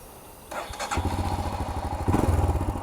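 A Royal Enfield Himalayan's single-cylinder motorcycle engine fires up and settles into a close, even, rhythmic idle thump that grows slightly louder near the end, with no talking.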